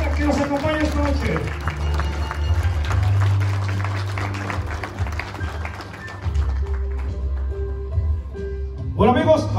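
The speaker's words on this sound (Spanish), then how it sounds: "¡Fuertísimo el aplauso!" Wedding guests clap for the flower girl at a reception, a steady patter of many hands running several seconds under loud music and an announcer's voice, fading near the end.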